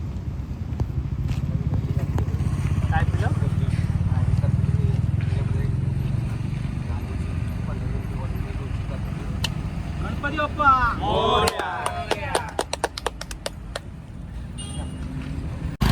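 A vehicle carrying Ganesh idols in Kolhapur pulls away, its engine rumbling strongly at first and then fading off, with people talking nearby and a few sharp clatters toward the end.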